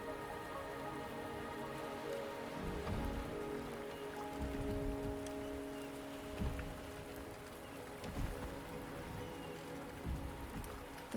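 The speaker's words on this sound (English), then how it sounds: "The rain is subsiding, and the sky will soon clear." Steady rain patters on surfaces in the video game Wuthering Waves, a soft continuous wash of drops with low rumbling ambience underneath, no voices.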